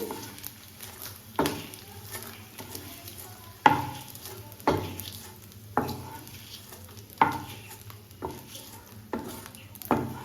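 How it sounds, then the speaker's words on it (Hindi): Edible gum (gond) roasts in a pan over a low flame, a soft low sizzle punctuated every second or so by a sharp scrape as a spoon stirs it steadily. "इस तरह से कंटिन्यू चलाते हुए हम इसको धीमी धीमी आंच पर अच्छे से भून लेंगे"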